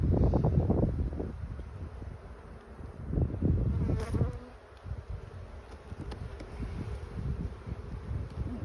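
Honey bees swarm around a hive, a close, dense buzzing hum that swells and fades in waves with some wind noise and handling bumps.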